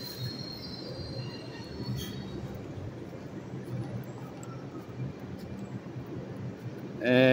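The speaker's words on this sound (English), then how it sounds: "That's the number 4 train." A New York City number 4 subway train rolls past near Yankee Stadium, a steady loud roar of wheels on rail with metallic squeal, continuous for several seconds and swelling louder at the end.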